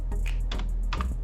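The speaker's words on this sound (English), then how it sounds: "I am going to type here" A few quick keystrokes on a computer keyboard, close and crisp clicks in a short burst with small gaps, with no one talking.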